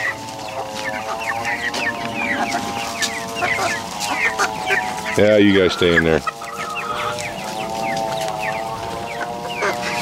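Chickens clucking steadily around a farm run, with repeated close calls and a louder burst of squawks midway, while a person speaks briefly among them.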